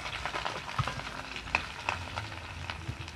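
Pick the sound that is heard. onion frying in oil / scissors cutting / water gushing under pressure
onion frying in oil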